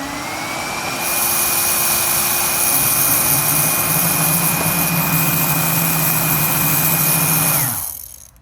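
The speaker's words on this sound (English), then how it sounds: "It spins up and gets those beans out of the chamber there." An Ikawa Home coffee roaster spins up its fan to blow roasted beans out of the chamber: a steady, loud whirring hum with a high whine that holds for several seconds, then winds down and cuts off.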